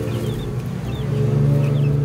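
Backyard chickens cluck softly and intermittently at moderate distance over a low steady hum, with no talking.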